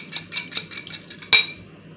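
A utensil clinks and scrapes rhythmically against a bowl mixing kofta panee ingredients before flour is added, several quick strokes followed by one louder knock, close up with no talking.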